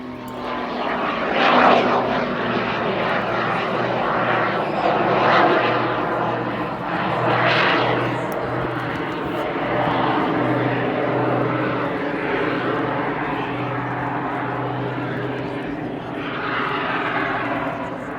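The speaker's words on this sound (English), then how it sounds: "This is full power from the jets and full power from the piston engine." A jet-and-piston-engined aircraft climbs vertically at full power at an air show at RAF Cosford, a loud sustained roar with a steady low drone and rising, swelling whooshes, while a commentator talks over it.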